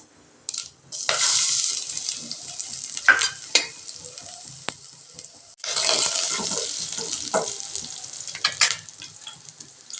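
Finely chopped garlic, about six cloves, hits hot oil with a loud sizzle that fades, then a second strong burst of frying and stirring follows, close and continuous, with no voices.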